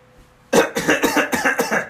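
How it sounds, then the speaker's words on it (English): A short burst of repeated coughs, about six hacking bursts in quick succession, loud and close after a moment of quiet. "No, keep coughing."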